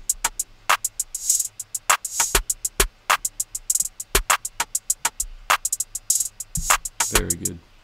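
A punchy hip-hop beat from Logic Pro X with crisp hi-hats, snappy snares and deep kicks plays in a bouncy, syncopated groove, percussion hits densely layered and loud throughout.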